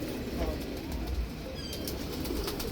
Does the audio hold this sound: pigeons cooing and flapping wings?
yes